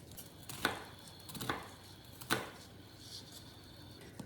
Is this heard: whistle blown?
no